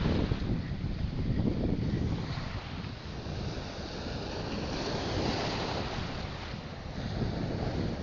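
Sea waves wash and churn continuously, mixed with heavy wind buffeting the microphone, loud and rough throughout with no voices.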